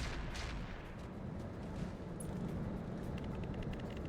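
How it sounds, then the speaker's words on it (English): Mortar artillery fire in the video game RogueTech, a heavy rumbling barrage of distant booms under continuous low noise, with a few sharper cracks toward the end. "Mortars coming in."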